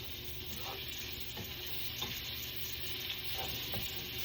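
Collard greens and garlic stir-fry in a hot pan with salt, a continuous close sizzle broken by periodic scraping stirs.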